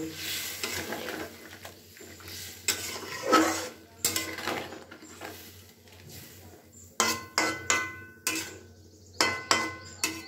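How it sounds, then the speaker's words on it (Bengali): A spoon stirs a mustard and poppy seed paste with a splash of water in a bowl, giving scraping swirls and sharp clinks against the vessel, louder in quick bursts toward the end. "দিয়ে এবার খুব ভালো করে এটাকে মিশিয়ে নেব।"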